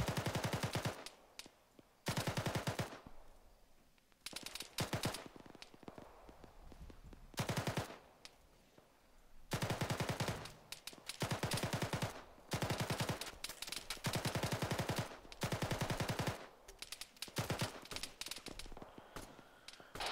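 Automatic gunfire in a multiplayer Arma 3 military firefight: long, loud bursts of rapid shots, repeated with brief pauses between them, close and dominant with no voices in between.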